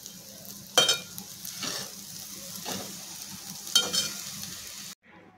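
Vermicelli upma with coriander is stirred in a sizzling pan, a spoon scraping through it in several separate strokes over a constant frying hiss, close and moderately loud, stopping abruptly near the end.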